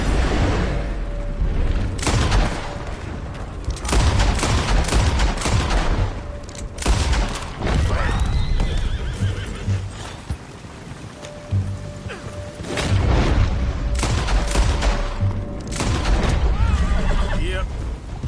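Gunfire in the video game Red Dead Redemption 2, loud repeated bursts of shots and booms throughout, layered over a constant game soundscape with voices speaking at times.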